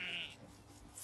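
Bottle-fed lambs bleat in a field with the rest of the sheep, one short close bleat over soft outdoor background.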